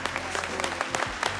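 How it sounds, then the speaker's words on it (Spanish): A studio audience on a Spanish-language TV dance competition show applauds the dancing couples, a brief burst of steady, fairly loud clapping with a faint crowd murmur. "también un aplauso a todas las parejas"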